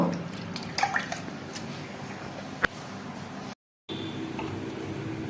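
Flour dough is washed by hand in a bowl of water, giving soft sloshing and gentle splashes with a few small drips and clicks, fairly close and quiet, broken by a brief cut to silence.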